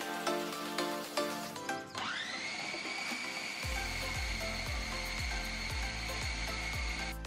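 An electric mincer grinds boneless chicken breast with a steady high motor whine and a run of rhythmic low thumping pulses, close up and without talk.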